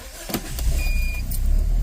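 A 2009 Nissan Tiida with a rough idle and a P0303 cylinder 3 misfire code cranks and starts up close by, a low engine rumble that builds steadily with a brief whine partway through.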